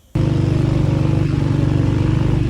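A Honda 125 motorcycle labors up a steep mountain road toward Ganga Choti in Azad Kashmir, its engine starting abruptly and then droning loud and close with a steady pulsing throb.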